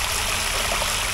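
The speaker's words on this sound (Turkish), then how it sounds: "Su deposundan tahliye suyu o havuzun içine akıyor." Overflow water from a storage tank pours into a pool and runs off as a small stream outdoors, making a steady, close, full rushing hiss with no voices.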